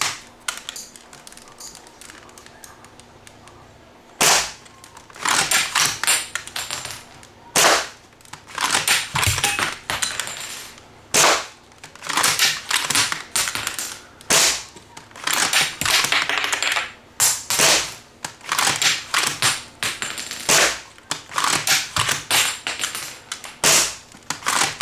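A T238 Burst+ airsoft magazine fired empty, a long run of sharp, close, loud shots in rapid bursts and single cracks with brief gaps between strings.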